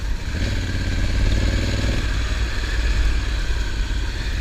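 A Honda Africa Twin motorcycle riding on Mount Hood, its engine droning steadily and close with wind rush and a slight rise in pitch early on.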